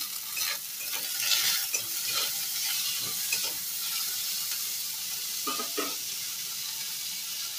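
Red bell pepper frying in a pan over low heat, with a soft continuous sizzle and repeated scraping stirs of a spatula, close and fairly quiet, with no talking.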